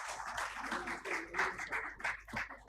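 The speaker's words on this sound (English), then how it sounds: "Can we please have a huge round of applause?" Applause from the audience at an awards ceremony, a steady patter of clapping hands that rises and falls over nearly three seconds.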